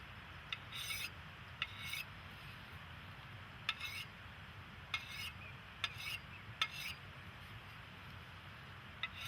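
Sharpened steel blade having its burr lightly polished off the edge, a quiet, faint background hiss with soft scattered strokes and brief scraping rasps spaced irregularly, no talking.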